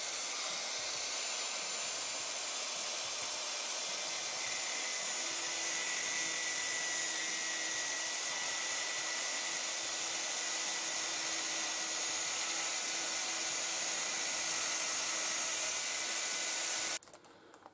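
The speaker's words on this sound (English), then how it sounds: "I'm gonna go and get the angle grinder out now" An angle grinder cuts a groove into a VW Beetle camshaft, giving a continuous loud, hissing, high-pitched whine that holds steady for a long stretch before stopping abruptly near the end.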